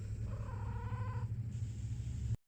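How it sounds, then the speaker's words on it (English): A cat purrs steadily and close, with a drawn-out meow-like tonal cry rising over the purring partway through before the sound cuts off abruptly. "There's just cats everywhere"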